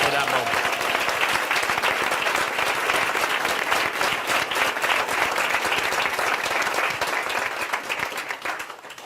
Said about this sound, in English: I want you all to give him a round of applause